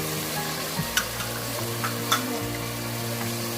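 Chicken hearts fry with red chilli, turmeric and salt, giving a steady close sizzle with a low hum beneath and a few distinct spatula clinks and scrapes as they are stirred, no talking.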